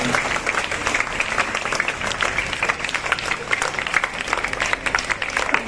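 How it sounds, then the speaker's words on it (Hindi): Loud, dense audience applause at a school function in Bhusawal, continuous and steady for several seconds, with no talk over it. "आज इस महतरम शख्सियत का जोरदार तालियों में सत्कार हो"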